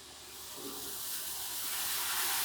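Upma-urad dosa batter spread thin on a hot pan gives a steady, close hiss that swells gradually and continues alone without any talk.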